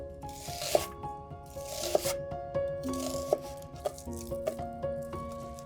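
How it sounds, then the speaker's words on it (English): A knife slices through an onion on a cutting board, with about six crisp, evenly spaced cuts roughly a second apart over soft background music. "a simple slicing of the onion"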